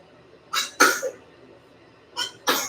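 Two quick bursts of sneezing or coughing come from one person, each a sharp, explosive pair about a second and a half apart, heard close up in an otherwise quiet room.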